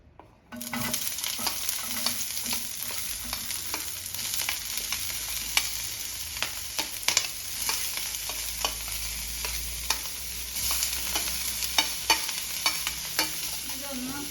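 Onion, green chilli, garlic and tomato sauté in a pan with a steady, close sizzle, broken by frequent scraping stir strokes throughout.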